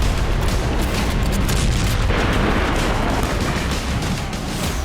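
A dense, continuous roar of heavy booming missile explosions, loud and sustained with no clear gaps, a barrage of blasts rumbling together.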